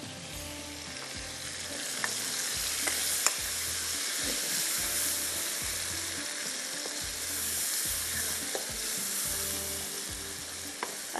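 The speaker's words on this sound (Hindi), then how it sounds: "पहले इसको थोड़ा सा हम मसाले को भूनेंगे" Masala roasting in a pan for a tangy mutton curry, a steady close sizzle and crackle with occasional sharp pops and the soft scrape of stirring throughout, no voices.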